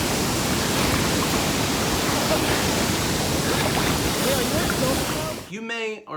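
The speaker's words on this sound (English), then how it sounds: "I was showing off Wachella Falls, is what Chris and I call it" Waquella Falls pours in a loud, steady, broadband rush of falling water heard close up for several seconds, then the roar drops away abruptly near the end.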